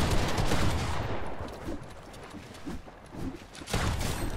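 Gunfire in a Fortnite-style battle royale endgame duo fight, a dense burst of shots loud at the start, then scattered shots and a renewed loud volley near the end, with no talking.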